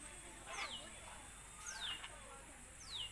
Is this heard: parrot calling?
yes